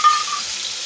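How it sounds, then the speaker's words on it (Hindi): Spice paste frying in a pan for an aloo soya chunk curry, a brief, close, steady sizzle with a faint hiss, alone without talk. "अब इसको बढ़िया से फ्राई करेंगे गहरा भूरा होने तक।"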